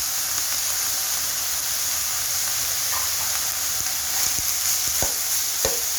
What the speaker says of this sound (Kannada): ಸ್ವಲ್ಪ 1-2 ನಿಮಿಷ ಚೆನ್ನಾಗಿ ಬಾಡಿಸ್ಕೊಳ್ಳಿ.